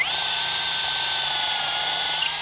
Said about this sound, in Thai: ตอนที่เจาะครับก็พยายามดึงเครื่องครับ เพราะว่าดึงเนื้อไม้ออกมา